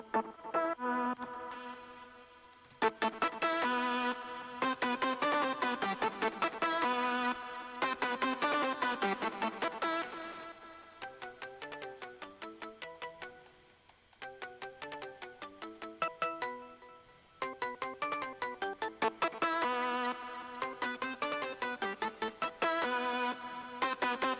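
A bright, buzzy hardstyle synth lead made in FL Studio 20 plays a chopped vocal-style melody in bursts, with reverb and echo, separated by short gaps and quieter plucked passages.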